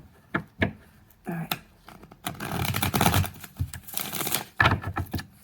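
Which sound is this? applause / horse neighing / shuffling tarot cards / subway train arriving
shuffling tarot cards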